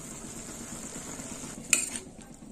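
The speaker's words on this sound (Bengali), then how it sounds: "এবার একটু নেড়ে ছেড়ে দেবো।" Food being stirred in a pan during Bengali cooking of a sour drumstick-flower dish, a soft continuous sizzle with a sharp clink of utensil against the pan near the end.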